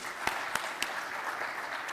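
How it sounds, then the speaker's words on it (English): Applause at a Gor Mahia football club event, a brief, fairly distant wash of clapping with a few sharper individual claps standing out. "Applause to him."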